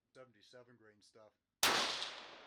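A .223 rifle firing Berger 77 grain OTM ammunition: a single loud, sharp report with a long decaying tail outdoors, following a short stretch of someone talking.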